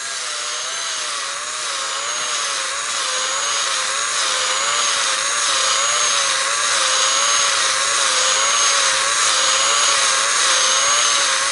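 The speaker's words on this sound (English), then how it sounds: "maybe we'll just try a little bit more honing of it" A worn ball hone spinning inside Harley Knucklehead wrist pin bushings, a loud continuous whirring grind with a slight rhythmic wobble that holds steady throughout.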